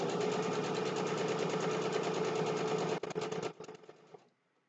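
A sewing machine stitches fabric for a Christmas table runner, running at a fast, steady whir close by for about three seconds before stuttering, slowing and stopping.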